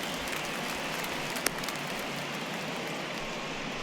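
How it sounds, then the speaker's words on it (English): Steady rain falls during a baseball game at the 2023 World Series, Angels versus Cubs, a continuous broadband hiss of drops on surfaces with one brief sharp knock partway through and no talking. "we've mentioned the conditions aren't ideal with the rain coming down"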